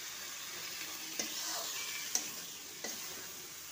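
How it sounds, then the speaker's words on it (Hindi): Cauliflower fried with tomato and dark soy sauce sizzles steadily in a pan while a spoon stirs it, three sharp scraping clinks against the pan standing out over the constant hiss, with no voices. "अच्छे से इसको मिलाएंगे और भुनेंगे।"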